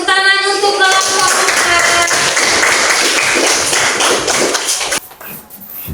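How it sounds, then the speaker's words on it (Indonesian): Students in a classroom applaud a presenting group: a loud, steady burst of clapping that runs for about five seconds and then stops abruptly, followed by quieter room sound. "tepuk tangan untuk kelompok"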